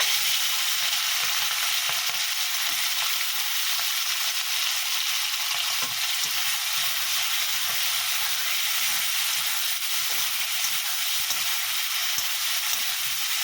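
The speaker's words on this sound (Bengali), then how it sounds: "ভাজা তেলের মধ্যে চিংড়ি মাছটা আমি ভেজে নেব" Shrimp frying in hot oil, a steady bright sizzle and crackle that continues without a break, close by and with no talking.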